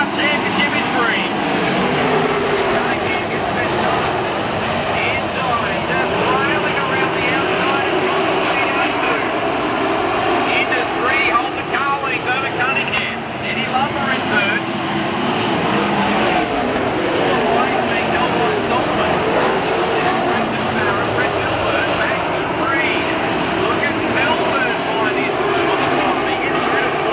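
A field of 360 sprint cars roars away together at the start of a Victorian championship A main, a dense, sustained engine din with a crowd and announcer talking underneath throughout.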